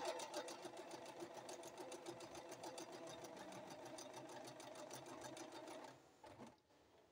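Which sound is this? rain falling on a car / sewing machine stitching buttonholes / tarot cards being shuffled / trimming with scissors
sewing machine stitching buttonholes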